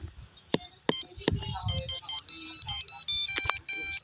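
A mobile phone ringtone from an incoming call plays as a repeating bright electronic melody, loud and close, after a few sharp clicks at the start, with faint voices in the background.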